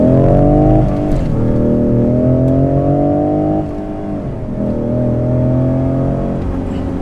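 A Ford truck accelerates hard in first gear, its engine roaring loud and close with rising harmonic pitch, a brief dip as the throttle eases, then pulling strongly again.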